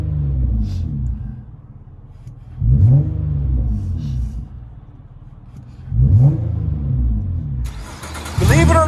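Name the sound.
Nissan Altima 3.5L V6 dual exhaust with Magnaflow Magnapack, interior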